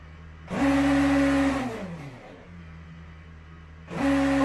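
A race car engine in the sim racing game Le Mans Ultimate at Bahrain roars loud and close, drops away as the revs fall, idles low, then surges back up to a high whine.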